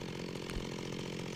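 Mechanical saw grinding away in the Messiah video game, a continuous buzzing whine with a brief louder bump partway through, steady and fairly close, no talk over it.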